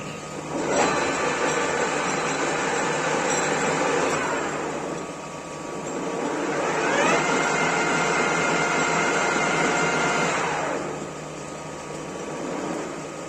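A 1M63 lathe runs with the carriage power feed engaged, giving a steady mechanical whir and hum that swells and fades in long slow cycles, heard alone with no talk.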